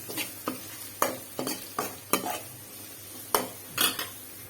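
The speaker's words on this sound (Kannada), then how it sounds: "ಜಾಸ್ತಿ ಏನು ಫ್ರೈ ಮಾಡೋದು ಬೇಡ, ಸ್ವಲ್ಪ ಕ್ರಂಚಿ ಆಗುತ್ತೆ ಅಂತ ಫ್ರೈ ಮಾಡಿಕೊಂಡ್ರೆ ಸಾಕು" Onion and capsicum stir-fry for gobi manchurian under a soft continuous sizzle, while a spatula clanks against the pan in about eight distinct strokes at an uneven rhythm.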